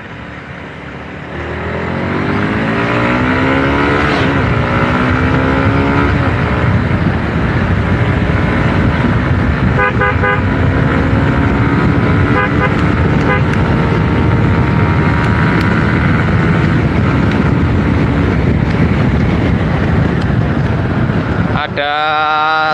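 A Honda CBR motorcycle engine with an injector fault, ridden slowly at about 30 km/h in low gear, droning steadily under heavy wind buffeting across the microphone, with a sharp change right at the end.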